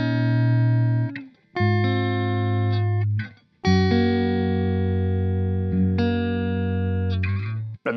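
An electric guitar recorded in FL Studio plays a sustained, distorted melody with effects, long held notes changing in steps and breaking off in a few short gaps.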